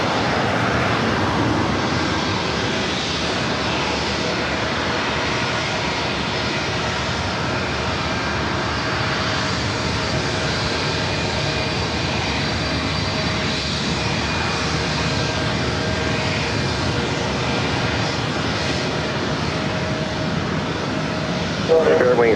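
Aircraft engines at LAX airport, a continuous broad roar that holds steady throughout, with a voice talking over it.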